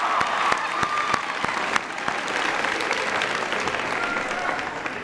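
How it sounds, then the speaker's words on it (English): An audience applauds at a presidential event on education and high school redesign. Sustained, full clapping runs throughout, with a few sharp, distinct claps standing out in the first two seconds. "Give Leah a big round of applause."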